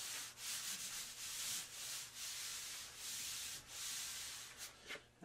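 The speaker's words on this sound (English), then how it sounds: "I'm just going to rub it in." Chalk is rubbed into a drawing of mountains with repeated soft, scratchy strokes, faint and close, in short uneven bursts with small pauses between them.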